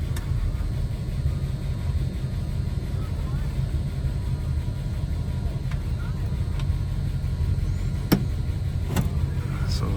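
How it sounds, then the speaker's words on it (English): A 1956 Oldsmobile Eighty-Eight engine idles with a steady low rumble that holds through the whole stretch, with a couple of brief clicks and taps near the end. "take a listen to the engine"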